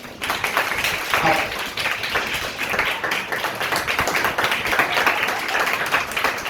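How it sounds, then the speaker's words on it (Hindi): A lecture-hall audience claps and applauds steadily throughout, a dense, continuous patter of many hands with a few voices mixed in. "अपने लिए तालियां बजा दो पहले"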